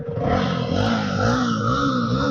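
A motorcycle engine is revved in a Himachal Pradesh orchard, a loud, close, continuous drone that rises and wavers in pitch through the whole short stretch.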